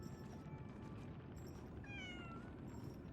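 A pet cat meows once with a short rising-falling cry over a steady low background hum, fairly faint.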